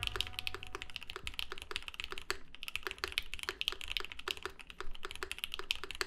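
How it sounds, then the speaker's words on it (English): Steady, rapid mechanical keyboard typing on a GRID650 with glow-in-the-dark switches, crisp clicky keystrokes, close up and continuous with no talking. "now we'll do a quick little sound test of the keyboard"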